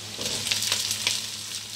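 Tempeh and tofu stir-frying in a pan, with a steady close hiss of sizzling oil and a few soft scraping stirs, and no voices.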